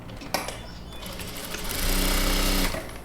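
A sewing machine runs a straight seam on knit fabric for a baby comfort blanket, a close mechanical whir that starts after a click and speeds into a louder steady buzz.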